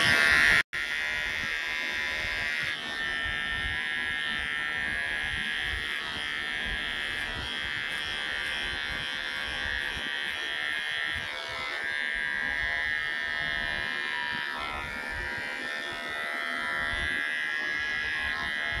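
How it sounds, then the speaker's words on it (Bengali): Electric hair clipper set to zero, used for a mullet haircut, buzzes steadily and close up for the whole stretch after a brief click at the start, with no talking over it. "নিলাম জিরো মেশিনটা, ফার্স্ট জিরোটা চালিয়ে নেব।"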